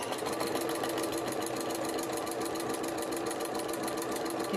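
A home sewing machine stitches steadily on a quilt-as-you-go needle case, its rapid even needle rhythm running loud and close without a break.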